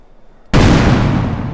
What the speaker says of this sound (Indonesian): Nah, aku pakai bom. Aku lempar kau.